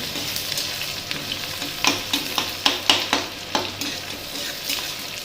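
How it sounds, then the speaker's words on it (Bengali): Onion and chilli frying in mustard oil, a steady close sizzle with a series of sharp scraping stirs in the pan, no talking. "পেঁয়াজ লঙ্কাটা দিয়ে দিলাম দিয়ে একটু ভাজা ভাজা করে নিই"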